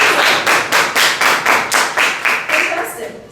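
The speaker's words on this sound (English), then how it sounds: "Big clap for Ryan." Children in a school classroom give a big round of applause, about ten loud rhythmic group claps in steady succession, close and clear.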